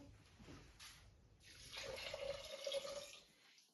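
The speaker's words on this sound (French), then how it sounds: "Donc je vais lui rajouter de l'eau." Water poured into a pot of simmering Indian lentil dal, a steady splashing pour lasting a few seconds, close and fairly quiet, with no talk.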